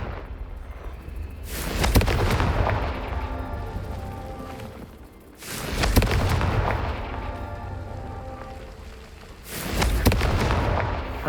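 Three heavy booming blasts from the Confringo fire spell in the video game Hogwarts Legacy, spaced roughly four seconds apart, each a loud low rumbling burst that decays slowly into a faint background hum.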